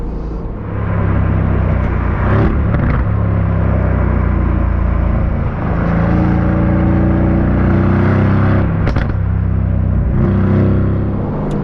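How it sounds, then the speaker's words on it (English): An Aston Martin Vantage V8 engine revving, a loud, steady bellowing roar that holds nearly unbroken for about eleven seconds with a few brief surges, close by and with no talking. "love the sound of a bellowing machine gun V8, and this delivers it so well"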